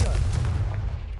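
A Confringo fire spell from the Hogwarts Legacy video game erupts in one loud, close, booming blast that rolls off quickly, sounding like a burst of explosive artillery fire.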